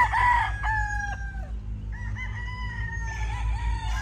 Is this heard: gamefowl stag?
yes